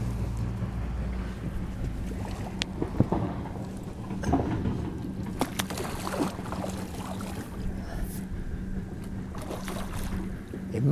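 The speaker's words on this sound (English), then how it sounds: "It must be some concrete crushing machine over there." Low, steady rumble of a concrete crushing machine running in the distance beside a small fishing lake, with faint clanks and knocks over the drone.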